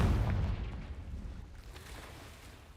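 A fiery blast spell in a Harry Potter video game goes off as a deep booming explosion with a rumbling tail that fades over a few seconds.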